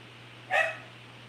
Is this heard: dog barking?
yes